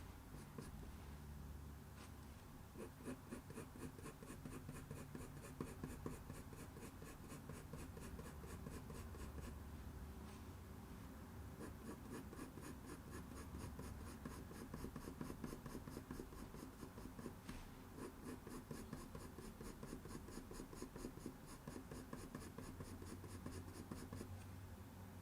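A colored pencil, including a white pencil for highlights, scratches across paper while a black cat's eye is drawn. Quiet, rapid back-and-forth strokes rasp close by in a continuous rhythm, with no voices.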